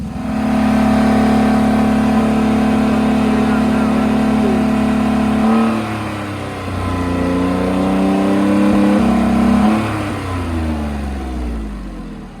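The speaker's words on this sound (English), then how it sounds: "we're going to keep letting it run here and get this boat going" A rebuilt boat's motor runs steadily and loudly up close, its pitch dipping and rising partway through as the engine note shifts.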